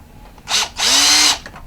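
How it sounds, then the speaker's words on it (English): A power drill bites through plastic in a workshop, a short loud whir followed by a longer sustained high-pitched drilling burst that winds down, close to the listener. "I'm going to drill through the plastic 2 more spots"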